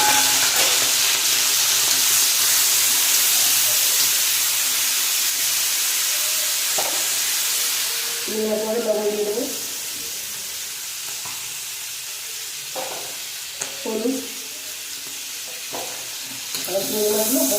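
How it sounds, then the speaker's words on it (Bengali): Shrimp fry in mustard oil in a blackened wok, giving a steady loud sizzle and hiss throughout, with occasional stirring scrapes and someone speaking briefly over the frying. "চিংড়ি মাছগুলো ভেজে নেব।"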